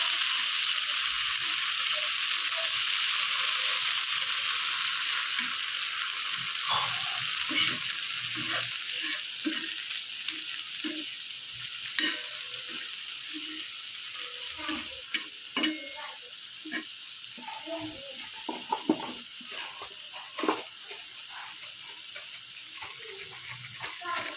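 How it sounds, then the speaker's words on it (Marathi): Green chillies with curd roasting in a pan on low gas, a steady soft sizzle with repeated scraping stirs and light clinks, fairly close, while a person talks intermittently. "गॅस कमी ठेवायचा, म्हणजे दही फुटत नाही आणि व्यवस्थित भाजली जाते."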